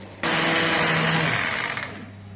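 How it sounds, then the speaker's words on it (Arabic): A blender grinding cooked fava beans switches on abruptly and whirs loudly at high speed, a steady grinding roar that eases slightly before winding down. "هفرمه بقى في الخلاط"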